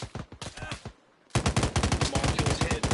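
Rapid bursts of automatic gunfire in Arma Reforger, loud and close, with a quick string of shots, a brief pause, then a longer sustained volley of evenly spaced cracks.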